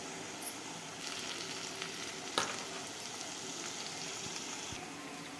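A rasam tempering sizzles in a pan with a steady, soft frying hiss and a few faint clicks, heard alone at a moderate distance.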